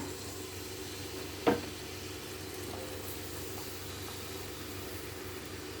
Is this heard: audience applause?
no